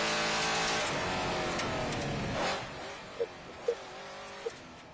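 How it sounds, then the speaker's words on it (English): Off-road race truck near the finish of the Vegas to Reno desert race, its engine a broad roar that fades off after a couple of seconds, leaving faint sharp knocks and pops in the distance. "There's just sound from the truck."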